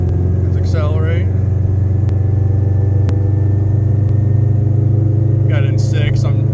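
Steady low hum from a failing rear wheel bearing on a 2015 Subaru BRZ with a manual gearbox, droning continuously under road and engine noise while accelerating in sixth gear, with brief speech-like bursts at the start and end.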